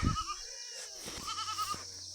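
Goats grazing in a hillside village let out a wavering bleat, close and moderately loud, over quiet outdoor background, followed by a second drawn-out cry.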